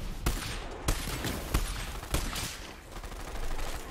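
Gunfire from a weapon in the shooter Borderlands 3: four loud, punchy shots roughly every two-thirds of a second, each with a short tail, over busy game ambience.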